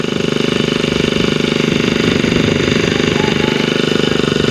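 A small grass cutter engine runs close by with a rapid, steady pulsing drone that holds at constant speed throughout.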